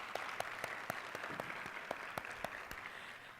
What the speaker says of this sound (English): please give a round of applause for the 70 health centers who are stepping up to be Phase 1 pilots